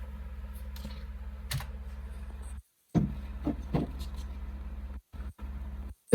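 Computer keyboard being typed on to enter a search into a browser, a few scattered soft key taps over a constant low hum, with short gaps of silence.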